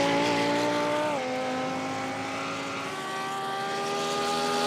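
Lamborghini race cars in a virtual Nürburgring sim racing endurance event, engines droning at high revs with a steady tonal whine that dips briefly as a gear shifts, then climbs again, loud and continuous.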